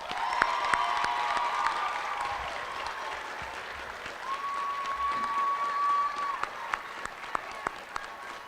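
Graduation audience applause for cyber charter school students, a fairly distant, continuous patter of clapping with a couple of sustained whistle-like tones and scattered sharper claps toward the end.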